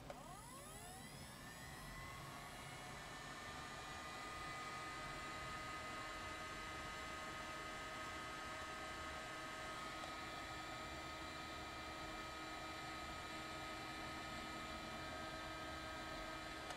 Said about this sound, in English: get the old heat gun out